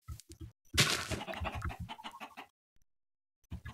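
A chicken clucks in the Minecraft video game, a close string of short, choppy clucks in quick bursts, then a brief silence before more clucking starts.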